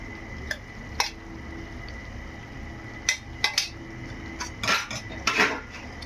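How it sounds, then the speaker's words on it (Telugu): A spoon scrapes and clinks against a pan while ground masala powder is mixed into chicken fry, with irregular metallic knocks that cluster toward the end over a faint sizzle. "ఇప్పుడు ఆ పౌడర్ మిక్స్ చేద్దాం"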